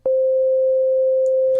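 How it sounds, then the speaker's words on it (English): A steady pure sine tone from a Massive synth's sine shaper holds at one unchanging pitch for over a second, loud and clean, with a faint click at the end. "There's our sine wave."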